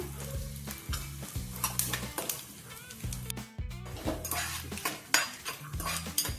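Dry red chillies, coriander seeds and cumin seeds frying in a pan, stirred with repeated metal scrapes and clinks of a utensil against the pan, over a light, steady sizzle.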